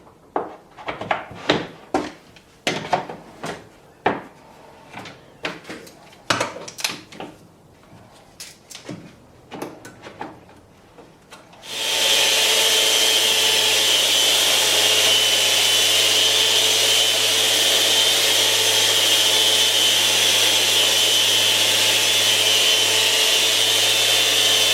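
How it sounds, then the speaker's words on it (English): A Festool Rotex 150 random orbital sander in random orbital mode works a wooden edge-grain cutting board, starting after a stretch of scattered knocks and handling sounds, then running as a loud, steady whir to the end. "So we'll use the random orbital mode in the Rotex 150 to achieve that."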